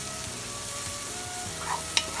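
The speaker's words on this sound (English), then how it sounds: "we'll just mix the onion with the oil and on high flame" Chopped onion frying in oil over a high flame, with a steady close sizzle, a few stirring scrapes and a light utensil clink near the end.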